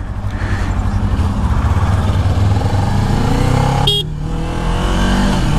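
A 2018 Kawasaki Ninja 400 motorcycle is ridden on the road, its engine droning close and loud, climbing in pitch as it accelerates, with a brief break near the end before the engine note picks up again.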